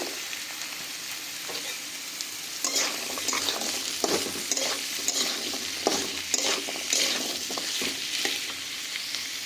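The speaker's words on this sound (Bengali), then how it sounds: "এবার এতে কেটে রাখা আলুগুলো আমরা দিয়ে দিচ্ছি।" Chopped potatoes go into a pan of fried onion and garlic, giving a steady oil sizzle broken by repeated scraping and stirring knocks of a spatula. The sound is close, with no voices.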